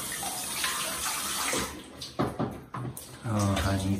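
Water running and splashing over a child's hair during a bath rinse, a steady wash of sound with an adult talking softly over it and some brief louder splashes.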